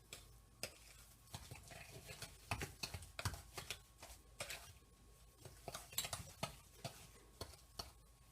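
Butter cookie dough for oatmeal cinnamon cookies being mixed in a bowl, with repeated scraping and tapping of a utensil against the bowl edges in an uneven rhythm, close and fairly quiet.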